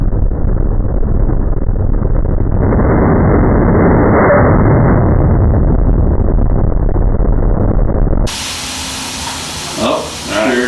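Nitrous oxide system on a race car spraying through a leaking fitting, a loud steady hiss that runs continuously for about eight seconds before cutting off, leaving quieter handling noise.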